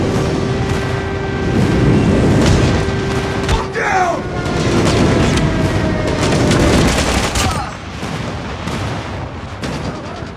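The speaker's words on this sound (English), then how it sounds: "Friendly airstrike incoming." Airstrike explosions in the video game Call of Duty, heavy rolling booms and rumbling blasts layered with gunfire and battlefield noise, loud and sustained, with game voices calling out over the din.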